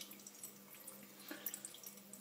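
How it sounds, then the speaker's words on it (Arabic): Water trickles and drips faintly through a strainer while white cheese is being made, with a soft, uneven patter and small splashes against a quiet background. "شوفوا المي دا ينزل من عنده، دا يوشل من عنده"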